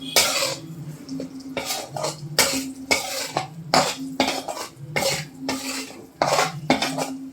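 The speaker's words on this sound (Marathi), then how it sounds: "आता हे छान तुपामध्ये आपण पीठ असं छान ब्राऊन कलर येईपर्यंत भाजून घेणार" Wheat flour stirred and roasted in ghee in a pan over a low flame for sweet semolina-style sheera, heard as repeated close scraping and clinking of a spoon against the pan in a steady stirring rhythm, with no talk.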